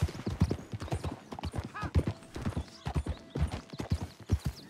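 A horse in the Red Dead Redemption 2 video game, with rhythmic clip-clopping hooves and a whinny in the middle, fairly faint and close, with no voices over it.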